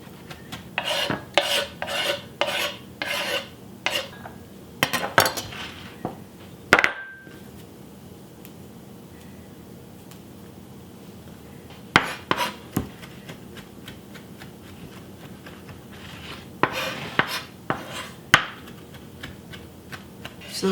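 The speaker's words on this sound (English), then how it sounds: "We'll snip this basil, and it's got such a nice fragrance." Kitchen scissors snip fresh basil leaves in quick bursts of crisp, dry clicks, close and fairly loud, with short pauses between clusters and no voices.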